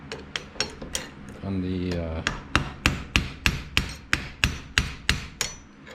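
Sharp, evenly spaced hammer taps on the oil pump drive of a 1985 Camaro Z28 HEI distributor held in a vise, close and loud, about a dozen metallic strikes with a brief grinding rub partway through.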